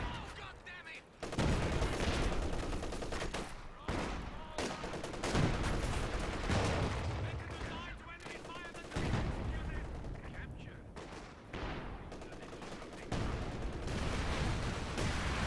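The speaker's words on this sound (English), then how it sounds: "We got Incendiary Barrage hitting this unit" Dense, continuous battle noise from Company of Heroes 2, with an incendiary artillery barrage and gunfire bursts that roll on almost without pause, loud and thick throughout.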